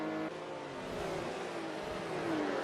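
Race cars in a sim racing game at Daytona, a Ferrari closing on a little Porsche, their engines droning and shifting pitch as one passes, moderately loud and unbroken throughout.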